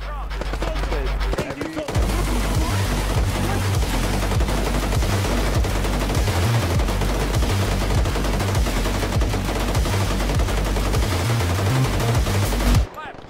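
Sustained automatic machine gun fire in the military shooter Arma 3 rattles in a continuous rapid burst for over ten seconds, loud and close, with booming low-end thumps throughout.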